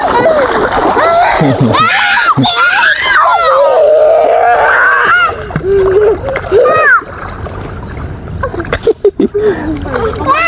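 People bathing in a river splash and slosh water loudly nearby, with children shouting, groaning and screaming throughout over the irregular bursts of splatter.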